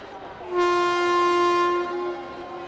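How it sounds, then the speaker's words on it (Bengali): A cartoon train sounds its horn as it departs, one long, loud, steady blast held for well over a second before it fades, close and with no talk. "তারা ট্রেনে উঠে বসতেই কিছুক্ষণ পর ট্রেন ছেড়ে দিল।"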